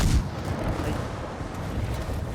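The battleship Missouri's 16-inch guns fire in a video game: a heavy close boom opens, then a long low rumble rolls on underneath, with no voices.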